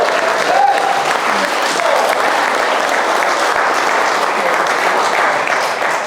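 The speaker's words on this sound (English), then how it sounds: "Please join me in giving the bride and groom a big round of applause." Wedding guests applaud the bride and groom, a loud, dense wash of clapping that stays steady for the whole stretch, with faint voices mixed into the crowd.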